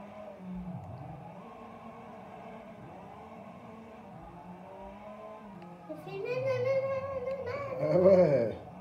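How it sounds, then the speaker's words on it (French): Engine revving in a racing video game, a steady whirring drone that swells louder toward the end, with a voice chattering over it. "Ah ouais, le moteur il va fort."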